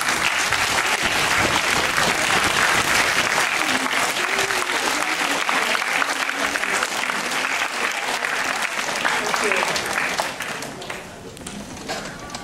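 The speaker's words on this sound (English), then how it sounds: "May I request my fellow graduates to stand up and give them a round of applause." Sustained applause from a graduation ceremony audience fills the hall, loud and steady for about ten seconds before thinning out toward the end.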